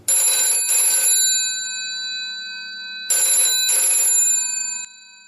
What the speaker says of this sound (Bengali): ক্রিং ক্রিং করে ফোনটা বেজে উঠল